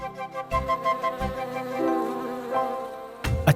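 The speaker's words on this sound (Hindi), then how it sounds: "वो रहा मधुमक्खियों का छत्ता।" A steady insect-like buzzing hum with a few louder bursts, like bees droning close by around a beehive.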